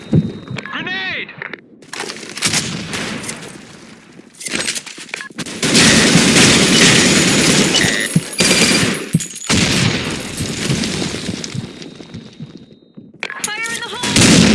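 Gunfire and grenade explosions crowd a Sand Storm match in a casual online shooter, with loud rapid bursts and blasts filling most of the stretch and shouting voices cutting in at the start and end.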